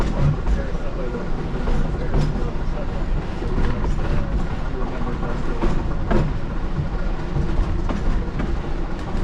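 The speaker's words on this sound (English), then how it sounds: "You like this train?" A Yosemite Mountain Sugar Pine Railroad train rumbles along the rails with a constant loud roar and occasional clacks, heard from on board, with faint voices underneath.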